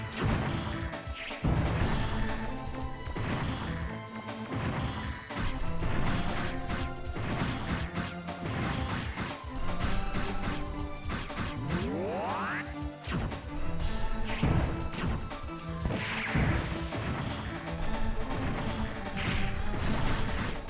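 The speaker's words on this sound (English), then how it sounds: "Grenades! Oh shit." Grenades blow up during Mega Man Legends gameplay as repeated crashing, smashing blasts over a dense, steady game soundtrack, with a quick rising whoosh partway through.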